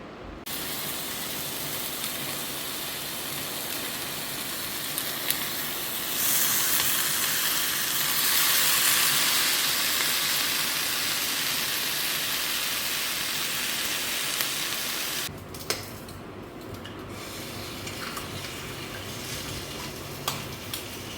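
Bacon sizzles and hisses steadily in a frying pan for a breakfast burrito, a continuous close crackle that swells briefly midway, with occasional clinks and no talking.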